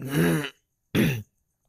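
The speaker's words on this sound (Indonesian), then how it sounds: "aku lagi batuk" Two short, sharp coughs from a single person, close and dry, separated by a brief silence.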